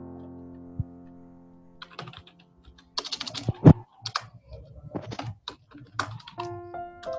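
Keys clatter on a computer keyboard in irregular bursts of close, crisp clicks with pauses between them, and nobody speaks.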